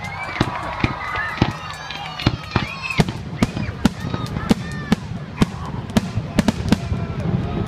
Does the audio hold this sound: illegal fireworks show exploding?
yes